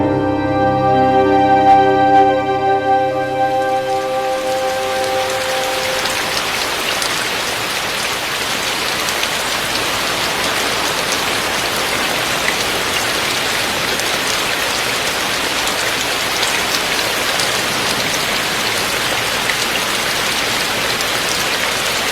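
Steady rain falls on the walls of an old Buddhist mountain temple, a dense, even hiss that fills the scene after a fading sustained tone at the start.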